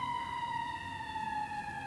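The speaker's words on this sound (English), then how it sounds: "here we have sirens" A lone emergency vehicle siren sounds faintly in the distance, holding a steady, slowly sliding tone with no other noise around it.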